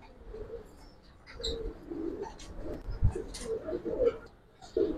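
Giribaz pigeons coo in soft, low, repeated bursts up close. Faint chirps and a light background murmur sit under the calls.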